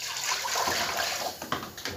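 Water rushes and splashes steadily into a cooking pot for a couple of seconds, with a few sharper splashes near the end.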